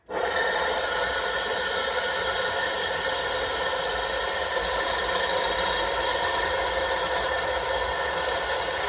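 An electric Vevor grain mill grinds corn into fine cornmeal, starting abruptly and then keeping up a loud, steady grinding roar with a gritty rasping texture, close by and without any talking.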